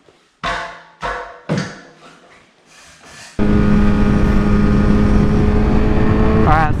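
A car starts up with a few sharp cranks and turnovers, then its engine settles into a loud, steady idle-to-driving drone close by, with a brief higher whine near the end.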